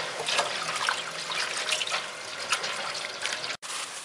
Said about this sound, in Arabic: نغسله كويس قوي قوي قوي تحت ميه بتجري